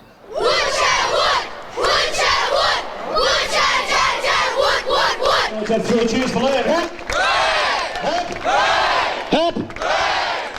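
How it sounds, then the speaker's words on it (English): A crowd of students and teachers cheers and shouts for a teenage boy in loud, rhythmic bursts of massed voices, swelling and pausing across the stretch like chanting at a school gathering. "students and teachers cheering for Liam"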